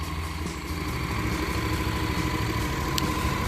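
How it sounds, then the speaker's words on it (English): Standard-exhaust 2013 Honda NC700 DCT motorcycle idling steadily, a continuous low mechanical rumble with a constant even level and no voices. "you give it a start, needless to say, first click and it starts"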